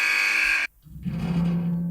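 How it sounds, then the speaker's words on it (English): A loud, harsh electronic buzzer blares, cuts off abruptly, then a lower droning buzz rises after a short gap. "Maybe a buzz."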